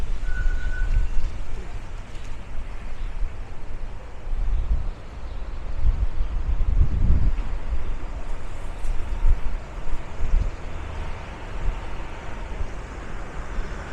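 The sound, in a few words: wind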